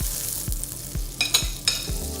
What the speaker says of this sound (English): while that bacon continues to sizzle